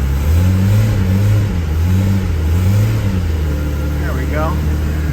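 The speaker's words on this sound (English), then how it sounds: "Maybe give her a couple of little revs." A 1986 Porsche 930S engine idles close by, then gets a couple of short, rising revs, with a low rumble and engine tones that swell and fall back, under some talking.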